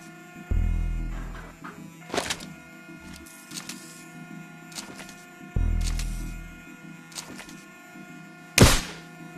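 Tranquilizer dart gun in the VR game Espire 1, near-silent firing: a few soft low thunks, two heavier with a lingering hum, between brief clicks and a sharp mechanical snap near the end, no talking.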